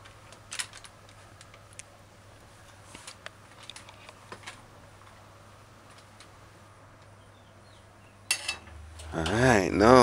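Scattered sharp knife taps on a cutting board as a Scotch bonnet pepper is halved, close and intermittent over a quiet room, followed by a louder clatter and rising noise at the end.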